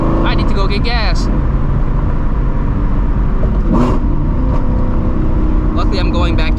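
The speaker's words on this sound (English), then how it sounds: "Got some backfires." A Shelby GT350 accelerating hard roars loudly and continuously from inside the car, with a few sharp pops of backfire breaking through the engine rumble.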